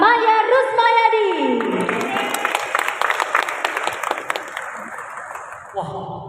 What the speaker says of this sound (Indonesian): beri tepuk tangan yang meriah kepada Bapak Maya Rusmayadi